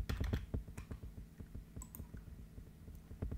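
Python code being typed on a computer keyboard, a steady close patter of clicky keystrokes with small irregular gaps and no talk.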